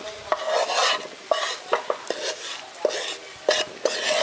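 Ground spices being stirred into pumpkin in a pan, a steady scrape of spoon against metal with soft sizzling underneath and a few sharper clinks, close and fairly loud.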